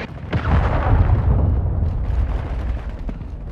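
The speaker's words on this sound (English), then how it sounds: "Friendly cruise missile approaching target." A Call of Duty cruise missile strikes its target in a heavy, rumbling explosion that bursts loud at once and then rolls on as a long, slowly fading boom with no voices over it.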